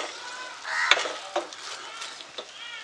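Whole spices and masala frying in ghee for a Maharashtrian cashew and prawn korma, with a soft steady sizzle and a few scraping stirs of a spoon against the pan, close and moderately quiet.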